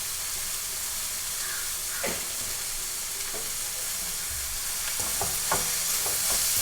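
Agathi flowers stir-fried with turmeric and onion in a pan, a steady close sizzle and hiss with scattered scraping stirs and clinks toward the end.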